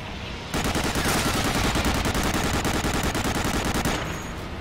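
Rapid machine-gun fire from an aircraft strafing run in Medal of Honor: Allied Assault, a dense, loud burst of shots lasting a few seconds before cutting off.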